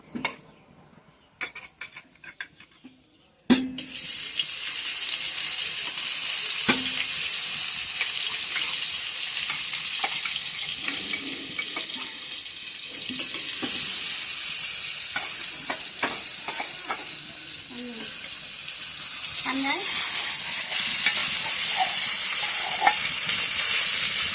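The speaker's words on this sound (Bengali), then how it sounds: "একটু হলুদ দিয়ে মেখে মাছটা ভেজে নেব।" Fish coated in turmeric fries in hot oil in a pan, a steady, close sizzle that starts abruptly after a few seconds of quiet and continues with occasional light scrapes and stirring clicks, no talking.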